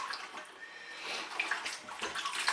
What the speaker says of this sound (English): we put our lettuce in the water, and I'll let it get wet everywhere